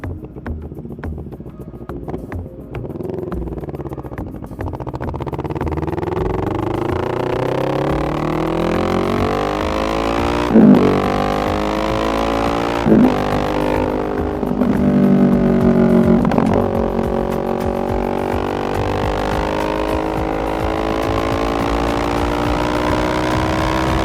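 Moto Morini X-Cape 650 adventure motorcycle with an FMF high mount exhaust: a loud, steady engine drone that rises and falls through several revs, with rumbling wind buffeting throughout.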